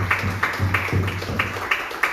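A church congregation applauds after a prayer, with rhythmic clapping over a steady low musical hum, fairly close and moderately loud.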